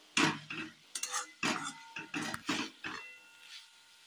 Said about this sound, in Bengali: চলো এবার আলুগুলো একটু মিশিয়ে নিই